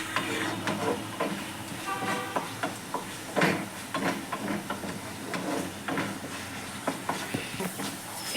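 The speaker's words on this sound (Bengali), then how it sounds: "আর একটু জিরে গুঁড়ো দিয়ে আমি এই মশলাটাকে ভালো করে কষিয়ে নেব" A spice paste with cumin powder is sautéed and stirred in a pan, producing a soft hiss with irregular scraping and clinking strokes, close and moderately loud with no talk.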